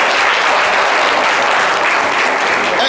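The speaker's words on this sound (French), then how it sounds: "Ah, mais on l'applaudit encore, n'est-ce pas?" Loud sustained applause from a studio audience during a French talk show featuring a band, a dense continuous wash of clapping with no breaks.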